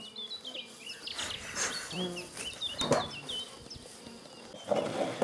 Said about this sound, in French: des essaims qui se développent très vite, on est obligé de les repasser en ruche pour leur agrandir leur maison